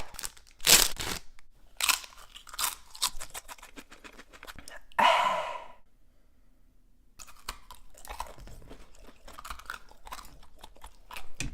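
Someone bites into and chews a spicy hot chip up close, with loud, sharp crunches in irregular bursts separated by quieter moist chewing and soft mouth noises.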